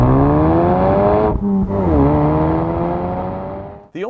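A 2017 Ford Focus RS engine running and revving, a loud, strong hum with sliding harmonic pitch, briefly dipping then picking back up before cutting out near the end.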